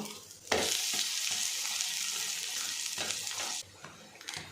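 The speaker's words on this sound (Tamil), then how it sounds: "அந்த இடத்துல வந்து கொஞ்சமாக எண்ணெய் ஊற்றணும் அப்படின்னா அடை நல்லா வெந்துடும்" Adai batter pancake fries on a pan with a little oil, giving a steady close sizzle that swells suddenly after a brief start, holds evenly, then drops back with a few soft scrapes near the end.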